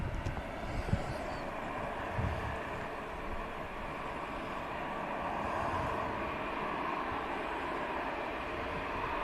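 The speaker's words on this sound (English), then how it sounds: "Let's take the lead aircraft, Virgin 350 Bennyjet, out to Las Vegas" A Virgin jet departs Manchester Airport bound for Las Vegas, its engines a steady distant roar with a broad airy rumble that builds slightly and then holds, with no one speaking.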